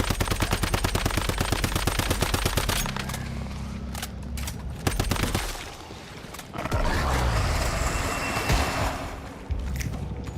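Automatic gunfire from the video game Once Human, shooting at enemies: a loud, rapid stream of shots for the first few seconds, followed by scattered bursts, booms and impact noises. No one speaks.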